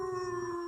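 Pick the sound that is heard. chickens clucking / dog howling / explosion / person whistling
dog howling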